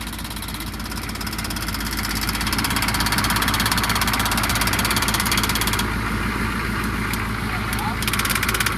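A rough, steady engine of an old square-body truck idles close by with a low rumbling throb and slight knocking, running continuously throughout.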